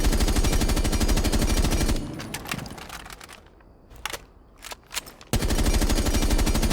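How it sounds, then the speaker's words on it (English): A G36 rifle fitted with a flash hider firing in Rainbow Six Siege, with long loud bursts of fast, evenly spaced automatic shots at the start and end and a quieter stretch of scattered clicks and single shots between them. "G36 with a flash hider."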